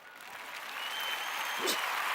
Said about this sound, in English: That gets an air horn. That gets a round of applause.